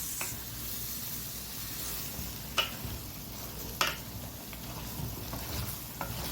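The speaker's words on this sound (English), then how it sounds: "Now we are going to grab a wooden spoon and we're going to mix" A wooden spoon stirs chili meat in a pan, giving a steady low sizzle with soft scraping strokes and a couple of sharper knocks against the pot.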